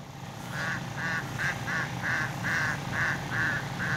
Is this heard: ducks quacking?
yes